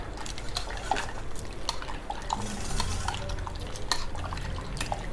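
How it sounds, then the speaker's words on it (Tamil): Soft wet squishing and sloshing as tamarind is kneaded by hand in a bowl of water to dissolve it for a fenugreek gravy, with occasional light clinks, close and quiet. "இப்போது குழம்புக்கு தேவையான புளியை கரைச்சிடலாம்."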